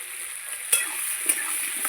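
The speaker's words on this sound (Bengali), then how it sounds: "কুমড়োটা অল্প করে ভেজে নেব।" Pumpkin pieces frying in a pan, a steady soft sizzle with a couple of brief clinks or stirs, fairly quiet and unbroken, no voices.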